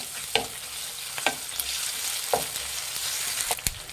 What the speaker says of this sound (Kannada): ಒಂದು ಅರ್ಧ ಟೇಬಲ್ ಸ್ಪೂನ್ ಶುಂಠಿ ಬೆಳ್ಳುಳ್ಳಿ ಪೇಸ್ಟ್ ಹಾಕ್ತಾ ಇದ್ದೀನಿ ಮಿಕ್ಸ್ ಮಾಡಿ